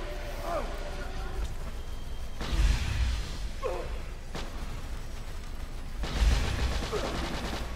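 Gunfire and impact bursts from a raid against ancient dragons in a video game come in a few loud, swelling waves under steady background game noise.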